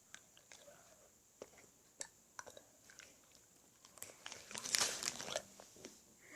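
A large bite of novelty jelly snack is chewed close to the mic, soft sticky chewing and crunchy biting clicks that build into a louder wet burst near the end; no talk.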